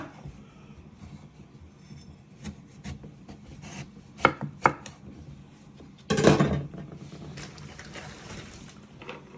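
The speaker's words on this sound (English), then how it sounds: "you're going to get one sweet potato and you're going to chop the ends off" A knife chops the ends off a sweet potato on a cutting board while vegetable samosa filling is prepared, giving a few soft knocks and then one louder, sharper chop near the end amid quiet kitchen noise.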